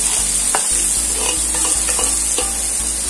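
Finely chopped onions sizzle loudly in a pan of browning garlic over medium flame, a steady close frying hiss broken by repeated scrapes and stirs of a spatula.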